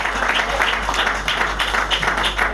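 An audience at an award ceremony applauds Aïcha Kende. Steady, fairly loud clapping continues without a break.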